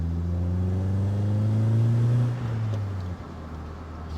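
A BMW E36 engine revs up as the car pulls away, a steady rising drone that eases off and settles into a lower hum, with no one talking.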